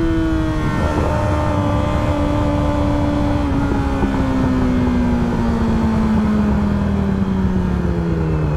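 A car engine drones steadily, its pitch gradually dropping as it drives along, loud and close.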